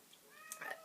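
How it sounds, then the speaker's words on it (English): A faint, brief cat meow rising and falling, heard alone against quiet room noise. "That's the cat."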